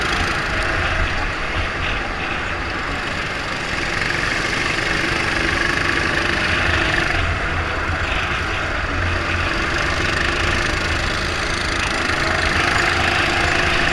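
Dirt track race cars roll out for a ten-lap B-Main at Pats Acres, their engines a continuous mid-pitched idling drone with knocking texture, steady and unbroken throughout.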